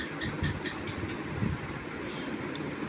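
A train pulled in at a station platform as passengers board: a steady low rumble of the idling train and carriages throughout, with no voices.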